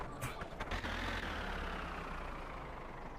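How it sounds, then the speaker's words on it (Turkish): A video-game tractor engine rumbles, opening with a brief burst before settling into a steady low drone. "Şimdi şöyle bir traktörümüzün marşına basalım ve çalışmaz."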